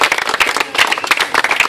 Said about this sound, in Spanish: otro aplauso, pues, para que no se sienta que no le pararon